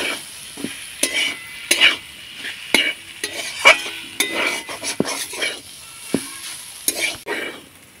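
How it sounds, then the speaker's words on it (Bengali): Potato filling for potol kachori being sautéed in a pan with cumin, coriander and garam masala powders: repeated scraping stirs and clinks of a spoon against the pan over a light sizzle, close and steady with no talking. "জিরের গুঁড়ো, ধনিয়ার গুঁড়ো, গরম মশলার গুঁড়ো দিয়ে আমি ভালো করে আলুটাকে কষিয়ে নেব"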